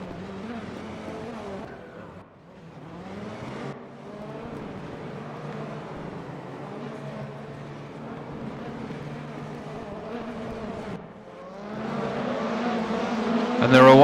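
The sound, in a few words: race cars starting off with tyre spin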